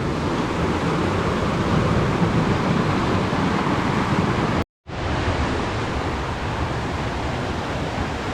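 The Paradise River on Mount Rainier flows below a trail, a steady broadband rush of water heard from a distance, constant and even apart from a split-second dropout partway through.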